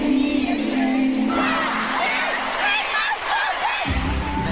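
A woman screams amid a cheering, whooping crowd at a concert, the roar dense and continuous throughout, with shouts rising over the general din.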